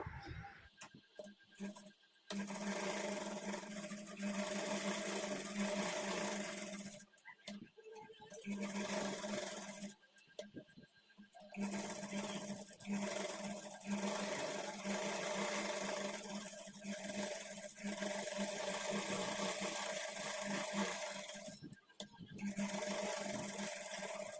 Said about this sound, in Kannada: ಸುತ್ತಲೂ ನಾವೊಂದು ಸ್ಟಿಚ್ ಹಾಕ್ಕೊಂಡು ಲೈನಿಂಗು ಮೇನ್ ಫ್ಯಾಬ್ರಿಕ್ಕು ಅಟ್ಯಾಚ್ ಮಾಡ್ಕೊಳ್ಬೇಕು